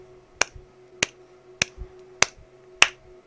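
Five crisp recorded hand claps ring out at an even, steady pace about every six-tenths of a second, each sharp with a short tail, over a quiet background hum.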